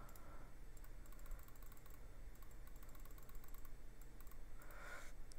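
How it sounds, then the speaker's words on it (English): Fast, continuous computer keyboard typing and mouse clicking during Minecraft play, a dense steady patter of close keystrokes with no pauses. "Fierce clicking."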